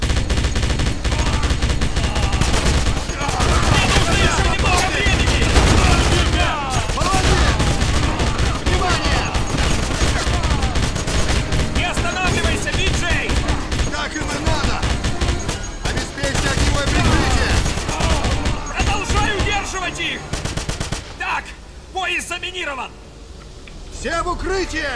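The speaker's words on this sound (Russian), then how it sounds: "Готовь МГ-42. Прыжай, стреляй из пулемета." Bursts of MG-42 machine gun fire in the video game Wolfenstein rattle loudly and almost without pause, dense rapid gunfire and explosions filling the battle while someone talks over it.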